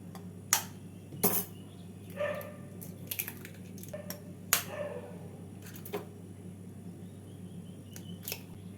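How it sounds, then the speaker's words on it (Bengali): Eggs beaten with salt in a bowl while making a mutton keema bread roll: sparse, irregular clinks and taps of utensil on bowl over a low steady hum, with no talking. "অল্প নুন দিয়ে ডিমটাকে ফেটিয়ে নেব"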